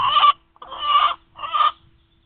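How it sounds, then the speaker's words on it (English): Chickens in a farm yard give three loud, close bursts of clucking and crowing in quick succession, each lasting about half a second, with a short gap between them. "And as the chickens yell, because they always yell"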